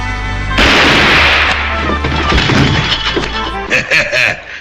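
A film gunshot lands as a sudden loud boom, followed by a rumbling, crashing tail and scattered thuds, with dialogue in the background.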